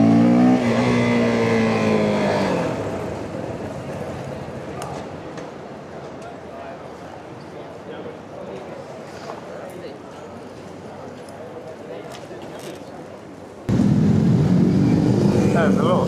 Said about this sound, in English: There is a lot of bikes.